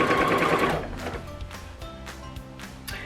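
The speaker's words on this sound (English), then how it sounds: "I'm literally going to sew it on wonky" A sewing machine stitching small fabric scraps onto a scrappy crumb-quilted cushion, a fast, loud burst of rapid stitching that slows into scattered, uneven needle thumps and clacks close by.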